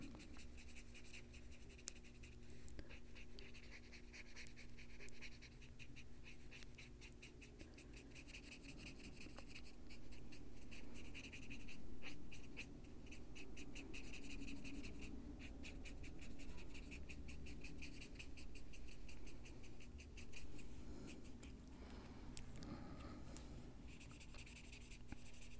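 Colored pencil, a soft water-based Chromaflow shade, rubbed back and forth over paper to blend, giving a steady close scratchy scrape that continues for the whole stretch with small pauses, over a low background hum.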